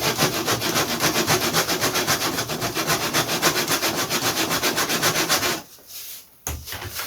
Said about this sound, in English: the best way just to sand this is just using the really coarse side of the what do they call these things